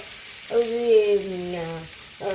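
Onions and masala fry in a pan for a chicken kadai masala, giving a steady close sizzling hiss with a brief humming tone rising over it partway through.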